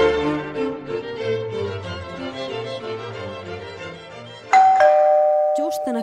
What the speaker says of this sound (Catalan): Just en aquell moment va sonar el timbre